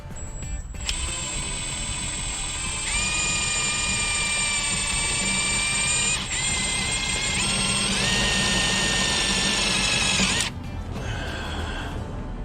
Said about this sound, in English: So what I'm doing is I'm drilling through.